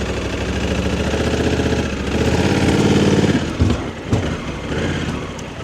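A motorcycle engine idling close by with a steady throbbing rumble, revving slightly before settling and sputtering toward the end.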